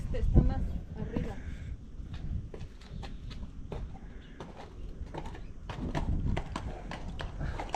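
A horse on a trail ride through the Serra de Tramuntana in Mallorca walks with a steady clip-clop of hooves, close and fairly loud, while people talk over it throughout.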